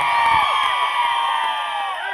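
A large crowd at an outdoor political rally cheers and whoops, a dense mass of distant voices with shrill, wavering cries rising above it, and the noise holds loud throughout.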